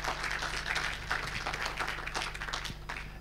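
A small audience at an association meeting applauds, giving a steady patter of many hands clapping in a room that holds through the whole stretch with no voices over it.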